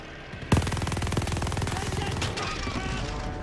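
Rapid automatic gunfire from a tank turret in a video game, a loud continuous burst of fast shots starting abruptly and rattling on without pause.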